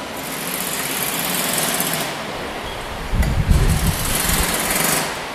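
A small motorcycle engine driving a roughly 4,000-watt generator aboard an electric car runs in a steady, buzzy drone, close and loud, with a brief heavier rumble midway; no talking.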